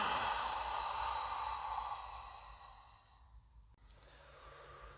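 A long, deep breath let out slowly through the mouth during a guided breathing exercise, a soft airy rush that gradually fades away, close and alone with no talking.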